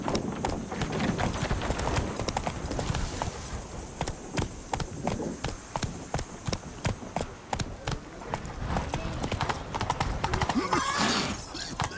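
Horse hooves clip-clop steadily while riding a horse at speed in The Witcher 3: Blood and Wine, with occasional whinnies and background game sounds.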